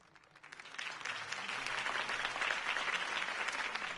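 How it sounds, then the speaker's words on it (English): Video game crowd applause in Batman: The Telltale Series swells in from a quiet start into steady, dense clapping from a large crowd, sustained and fairly distant. "could have heard that applause"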